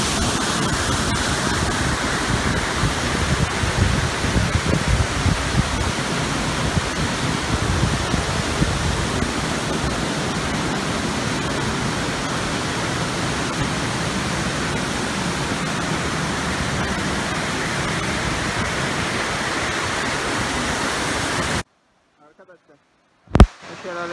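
A mountain waterfall on a high plateau at 2,200 metres, a steady loud roaring rush of falling water heard close up for about twenty seconds, then cutting off abruptly to near silence with a brief knock.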